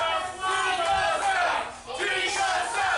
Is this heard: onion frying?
no